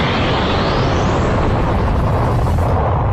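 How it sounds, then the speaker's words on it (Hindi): A fiery blast explosion in an animated Hindi-dubbed action film: a loud, sustained broadband roar rumbling for the full three seconds with no talk over it. "और तभी एक धमाका शिनरा के अंदर हो जाता है"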